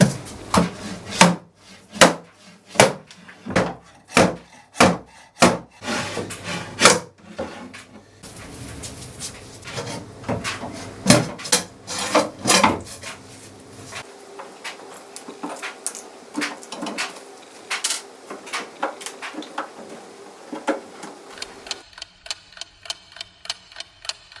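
A nailed and glued wooden piece is pried off a 1950s Jentique writing bureau: a steady run of sharp, evenly spaced wooden knocks, then denser cracking and scraping of wood, close and loud with no talk.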